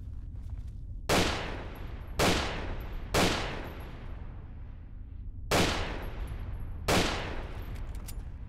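Five sharp gunshots ring out at irregular intervals while fighting giant ants in a modded Fallout 3. Each loud crack is followed by a short decaying echo against low ambient rumble.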